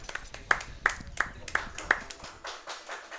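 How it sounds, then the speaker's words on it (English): Sparse claps from an audience watching a Rayman 2 speedrun race, about half a dozen separate claps in an irregular rhythm, fairly quiet and tapering off. "I think we can clap for that."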